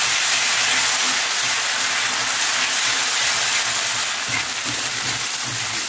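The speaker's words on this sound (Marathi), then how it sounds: "हे पण आपण याच्यामध्ये मस्त फ्राय करून घेऊ।" Ground masala paste of green chili, ginger and garlic frying in a pan for tava anda masala, giving a steady, close, continuous sizzle and hiss with no talking.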